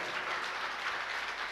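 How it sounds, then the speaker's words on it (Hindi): A crowd at a religious discourse gives loud, sustained clapping for children, dense and continuous applause heard from a moderate distance. "जोरदार ताली बजा दो"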